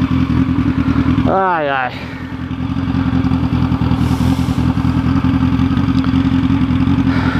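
A motorcycle engine runs close by at a steady idle, then is blipped once into a quick rising and falling rev before it settles back to idle. A voice comes in briefly over the engine.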